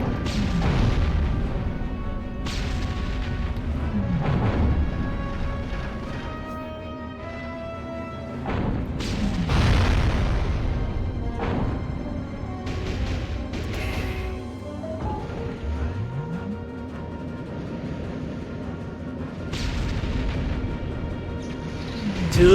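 Video game weapon fire, a sonic boom and a quantum deconstructor blasting buildings apart, bursts out in repeated loud booms and crashes over a steady musical background, with several sharp impacts spread across the stretch.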